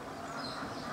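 Ducks quacking beside a canal in the Kerala backwaters, a flock just driven down to the water by a farmer; a steady, dense chatter of calls that stays constant and fairly close throughout.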